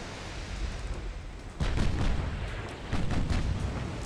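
Missile launches in the naval video game Shipyard Champions, a low rumbling bed punctuated by two heavy booming bursts, the first near the middle and the second toward the end.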